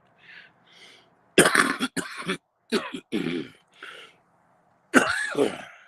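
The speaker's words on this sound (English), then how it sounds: "still never got rid of that fucking yucky cough" Several harsh, phlegmy coughs in short bursts from a lingering post-COVID cough, separated by pauses with a few quieter breathy sounds, close to the listener.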